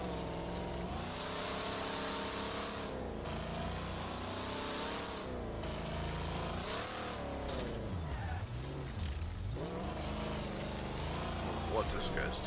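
Race cars in the Wreckfest game run as a continuous engine roar whose pitch climbs and dips with gear changes. Tire squeal and skidding come in bursts, with a voice speaking over the action.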